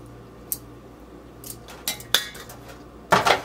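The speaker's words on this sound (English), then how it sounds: "Now I'm gonna add the vegetables and meat." Vegetables and meat are tipped into a pan for Filipino pancit bihon noodles: scattered metallic clinks and knocks of utensils against cookware, ending in a louder, busier clatter and scrape.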